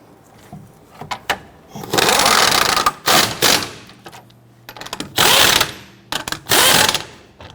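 A ratchet or impact tool snugs lug nuts on a Honda Ridgeline wheel during a rear brake job, firing in several loud, separate bursts of rapid whirring between short pauses.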